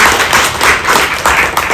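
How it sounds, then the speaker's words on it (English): An audience at a formal launch event applauds the Right Honorable Alitwa Kadaga, a former speaker, in dense, loud clapping that pulses in waves across the whole moment. "I wish you clap for her again"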